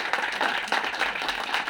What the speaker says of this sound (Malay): berikan tepukan paling gemuruh untuk PTPI